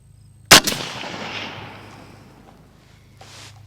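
A single loud, sharp SA58 rifle shot with 168 grain match ammunition cracks out close by and rolls away in a long fading echo across the range, with a faint small knock near the end.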